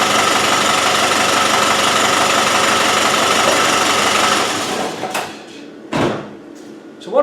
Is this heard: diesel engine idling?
yes